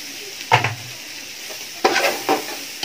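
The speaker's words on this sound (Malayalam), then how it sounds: "അതും കൂടി ആഡ് ചെയ്തിട്ട് നമുക്ക് നന്നായിട്ടൊന്ന് മിക്സാക്കാം." A spatula scrapes and tosses chicken fried rice ingredients in a hot pan, giving a few distinct stirring strokes over a soft sizzle.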